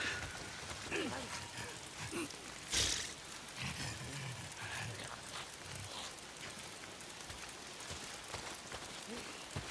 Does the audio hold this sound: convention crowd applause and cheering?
no